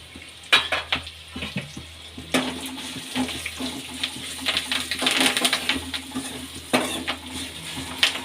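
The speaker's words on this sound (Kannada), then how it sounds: "ಸ್ವಲ್ಪ ಒಂದು ಒಂದು ನಿಮಿಷ ಫ್ರೈ ಆಗಿರಲಿ" Curry leaves, turmeric and Byadagi chillies sizzle in hot oil in a pan for a raw tamarind rasam, a soft, steady crackle with occasional clinks and stirring and no voices.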